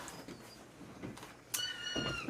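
A house cat meows several times indoors, short plaintive calls at moderate distance, with a louder meow near the end over a quiet room background.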